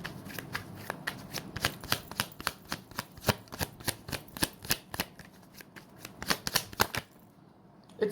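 Tarot cards are shuffled and drawn in a quiet room, a fast, steady run of crisp riffling snaps and slides that continues for about seven seconds and then stops.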